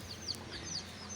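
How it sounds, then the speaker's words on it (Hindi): Young chicks on a farm chirp in faint, high, scattered peeps over a low background hum, brief and distant. "ये मुर्गी के बच्चे हैं वो भी बाहर निकल आए हैं"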